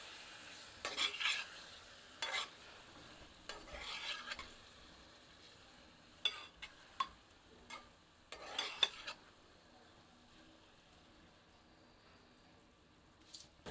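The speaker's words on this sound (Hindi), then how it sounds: "इसे मध्यम आंच पर 3 से 4 मिनट भूनते हैं।" Rum-and-spice marinated chicken in a pan over medium heat, stirred in a series of brief scraping bursts over a quiet, low sizzle. No one speaks.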